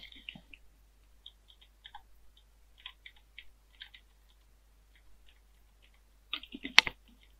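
Someone types on a computer keyboard in scattered quick bursts of light clicks, with a few mouse clicks and a denser flurry of keystrokes near the end, close and quiet, in an otherwise silent room.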